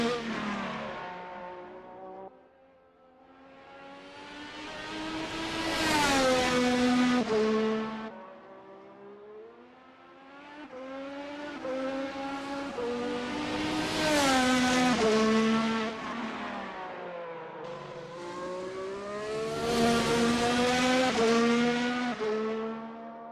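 A C5 race car lapping the Emilia Romagna Grand Prix circuit, its engine repeatedly revving up through the gears and dropping back for corners, loud and close in three long swelling waves.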